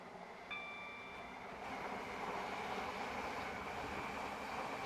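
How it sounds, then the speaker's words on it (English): A Class 720 electric train running in the Roblox video game, a steady broadband rolling rumble with a brief high whine near the start, continuous and moderately loud with no talk. "I'm just here driving a train on Roblox."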